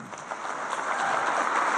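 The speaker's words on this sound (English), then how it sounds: "Give him a round of applause." Audience at a learning-technology conference session breaking into applause, a close, dense patter that swells slightly and holds steady for under two seconds.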